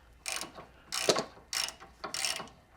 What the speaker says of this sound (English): I am using a 5/32 inch bit attached to my socket